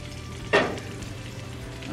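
Bison burger patties sizzling in melted butter in a hot skillet, a steady close frying hiss with a brief louder flare as the butter is moved around the pan.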